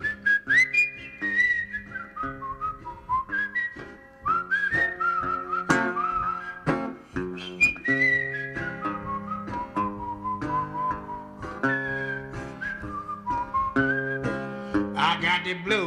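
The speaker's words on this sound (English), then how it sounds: "Whistle a little bit." A person whistles a lively melody at a live concert, bright sliding notes in a steady rhythm with a plucked backing underneath.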